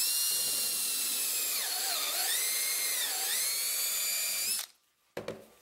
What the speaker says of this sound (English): you can cut a plug with a plug cutter, which is a really inexpensive tool for a drill.